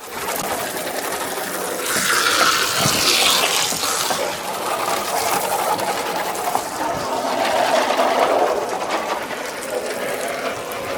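Water from a hose test runs through a newly installed aluminum eaves trough on a backyard deck build, a steady hissing, splashing rush that swells and eases, close and without speech.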